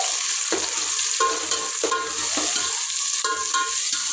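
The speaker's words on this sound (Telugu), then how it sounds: "ఉల్లిగడ్డలు ఇట్లా కలుపుతూ మధ్యలో మధ్యలో వేయించుకున్నాము బాగా" Onions frying in hot oil, stirred with a utensil in a series of scraping strokes over a continuous sizzle, near and clear, with no talk.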